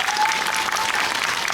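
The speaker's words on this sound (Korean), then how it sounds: "박수 한번 부탁드립니다" Audience applause at a film Q&A screening of Exhuma with the director and actor, a brief, dense wash of clapping from a crowd.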